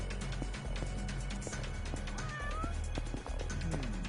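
A cat meows a few times, short rising cries standing out over a dense, steady bed of game music and noise, with no talk.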